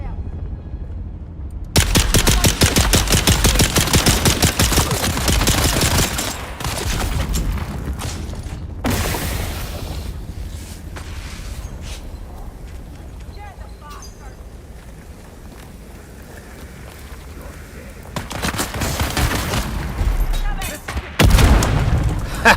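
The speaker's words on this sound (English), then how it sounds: "So now it'll shoot? It literally wouldn't shoot before." Bursts of heavy gunfire in the video game Dune Awakening, loud and dense, in a sustained volley at the start and again near the end, with quieter ambient stretches between.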